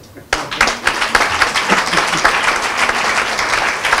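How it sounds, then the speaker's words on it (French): A church congregation at a Sunday service breaks into sudden, loud, sustained applause. The clapping starts abruptly and holds steady as a dense wash of many hands filling the room. "Cela, ça s'acclame."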